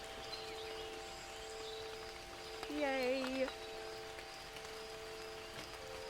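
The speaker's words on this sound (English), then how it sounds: "It's like rainy, wind chimey, so it's really soft." Soft, distant rain patters over sustained ringing tones from wind chimes, all quiet and even, while a voice briefly calls out in the middle.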